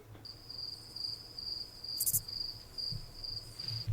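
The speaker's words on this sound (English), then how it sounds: "I'm going to put a cricket sound effect" A cricket chirp sound effect plays as a steady, high, continuous trill at moderate level over faint background hiss, with a brief sharp click partway through.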